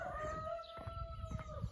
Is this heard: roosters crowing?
yes